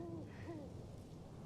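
A faint owl hoots twice in the video game Double Exposure, low and breathy against a steady background hum.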